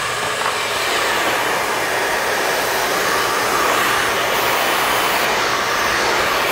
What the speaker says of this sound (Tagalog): Wait lang guys, blower ko lang to.